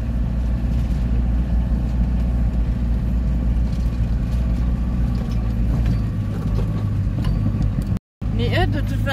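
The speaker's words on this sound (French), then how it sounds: "le moteur ronfle un peu" A camper van's engine drones steadily while driving, a low continuous rumble and vibration filling the cab, with a brief dropout near the end before the engine noise returns.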